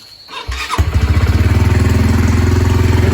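An old Honda Sonic motorcycle engine catches with a short cranking burst and then settles into a loud, close, steady, rhythmic idle.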